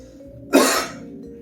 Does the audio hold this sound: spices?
no